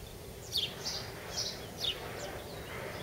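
Several short, high chirps and tweets from small birds in a bonsai garden repeat at a moderate distance over a steady background hiss, with no talking.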